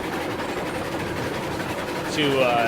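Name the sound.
log train running in video game RailRoads Online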